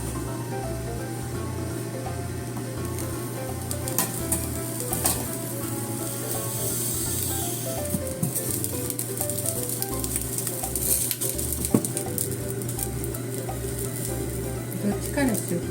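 Scored eggplant frying in a pan with very little oil, sizzling loudly and continuously up close, with occasional clinks and stirring noises and a low rhythmic hum underneath.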